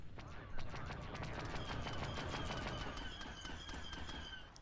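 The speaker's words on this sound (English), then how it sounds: "E11R recoilless blaster rifle." Rapid bursts of blaster fire from an E11R recoilless blaster rifle in the classic Star Wars Battlefront 2 on a modded Naboo map, sharp repeated shots in a steady stream over dense battle noise, with no voices.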